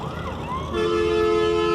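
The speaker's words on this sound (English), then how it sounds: "There is an ambulance coming." An ambulance siren wails nearby outdoors, its pitch swooping and then switching to a loud, steady, sustained tone as it comes closer. The siren grows louder over the short span.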